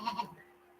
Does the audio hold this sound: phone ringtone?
no